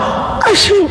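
A voice imitates a sneeze with a single loud, close, voiced burst that echoes slightly, as in a lecture hall.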